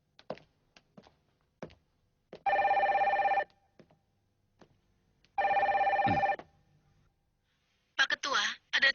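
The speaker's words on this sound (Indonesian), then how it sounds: "Pak Ketua, ada telepon dari pelatih Berneval." An office telephone bell in the Captain Tsubasa anime rings in two long bursts separated by a pause, loud and close, with scattered taps and thumps between them and a short burst of other sound at the end.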